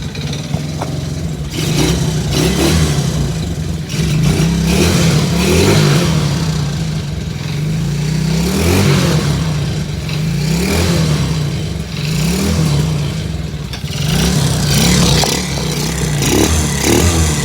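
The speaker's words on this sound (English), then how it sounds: "Let's start the quad." A quad ATV engine, choked to get it going, runs loud and close throughout. Its rough, throaty note rises and falls in repeated revs with no talking.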